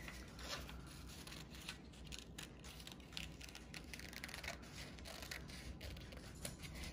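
Scissors snip through paper in short, steady, close-up cuts while a child's paper shape is trimmed around its corners, a soft crisp crunching that repeats under faint room noise with no talking.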